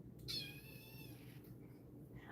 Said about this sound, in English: She likes to meow at me.